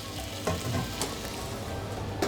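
Diced pumpkin frying in olive oil in a pot, a steady, dense crackling sizzle with a few louder pops, close and continuous without voices.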